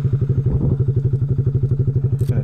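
A 149cc Honda Grom's warmed-up engine idles steadily, a loud, close, even low thumping pulse with a faint clatter, running alone throughout.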